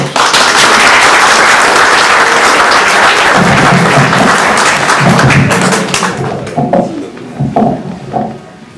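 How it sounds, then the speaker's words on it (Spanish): Warm applause from an audience at a school event honoring the poet César Vallejo, welcoming a speaker; steady loud clapping that thins into scattered claps and thumps near the end. "Vamos a recibirlo con un cariñoso aplauso."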